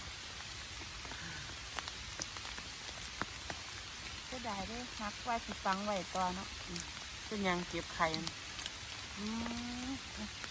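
Rain falls in a forest during mushroom picking, a constant soft patter across the whole stretch while people talk in the middle and at the end.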